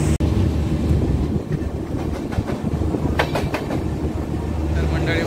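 A moving passenger train rumbles steadily close by, with rolling rail noise and faint clickety-clack of the carriages passing throughout.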